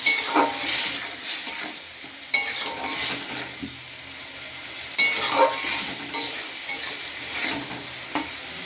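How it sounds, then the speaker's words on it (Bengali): Spices and salt being stir-fried (koshano) in a pan sizzle loudly and steadily, broken by repeated scraping strokes of a spatula against the pan. "একটু কষাতে হবে।"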